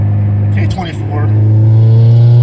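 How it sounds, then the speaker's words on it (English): A stock six-speed Honda K24 (K24A2) swapped into a DB8 Integra revs loudly and steadily under load, climbing through its VTEC crossover. A voice speaks briefly over the engine partway through. "nice little vtec crossover."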